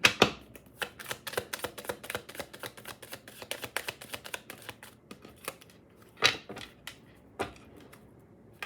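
Tarot cards being shuffled and drawn: a close run of crisp, rapid flicks and snaps with no one talking, then a couple of louder isolated card slaps near the end.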